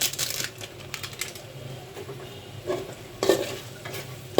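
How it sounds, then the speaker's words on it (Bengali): Meat fried with halim spices and fried onions is stirred in a pan. Scraping strokes from the spoon and clinks against the metal sit over a soft background sizzle, with a few sharper knocks near the end. "এখন এই মাংসের সাথে ভালোভাবে কষিয়ে নিচ্ছি।"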